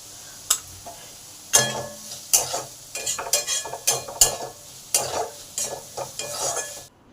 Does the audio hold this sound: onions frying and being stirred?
yes